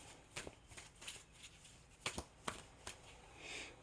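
Tarot cards being shuffled quietly and close by, with a run of soft riffling bursts and sharper snaps spaced irregularly over a few seconds.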